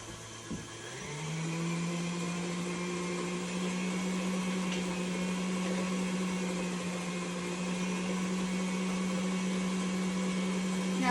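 An old electric kitchen mixer, once a great-grandmother's, starts up and settles into a steady motor whine with a strong constant hum and a rougher mechanical rattle layered over it, running continuously and fairly close.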